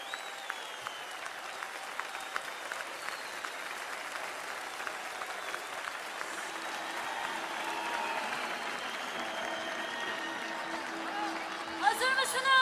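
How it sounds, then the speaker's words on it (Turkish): A live audience at a Kurdish music concert applauds the accompanying choir. The clapping is soft and distant, with a sustained crowd murmur and voices underneath and a few sharper claps near the end. "Bu koroya eşlik eden dostlara büyük bir alkış rica ediyor"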